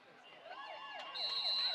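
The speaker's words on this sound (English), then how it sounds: "The siren goes." A siren sounds to signal the end of an amateur football game, its rising and falling wail growing louder and steadier toward the end.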